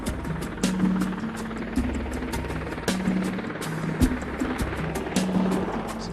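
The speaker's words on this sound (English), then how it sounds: "Marine One is the helicopter that has the president on board and lands on the south lawn of the White House" Marine One presidential helicopter landing on the White House south lawn, with steady rotor thumping and a droning engine whine carrying throughout, moderately loud and continuous with slight swells.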